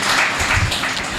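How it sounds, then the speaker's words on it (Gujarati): A church congregation claps together during a sermon, a short burst of dense, close applause lasting just over a second. "તાળી પાડીએ આપણે"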